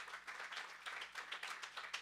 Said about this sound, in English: Let's give the choir a round of applause.